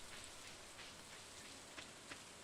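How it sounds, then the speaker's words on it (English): Steady rain in Stardew Valley falls over the farm as a dense, even hiss, with a few soft raindrop taps and no clear thunder, all continuous and without voices. "The cows are happily snoozing through the rain and the thunder."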